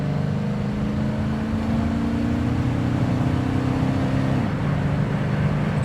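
A 1978 Aston Martin V8 Coupe accelerates on a slippery road, a steady engine drone rising in pitch under road noise before dropping as the gear changes.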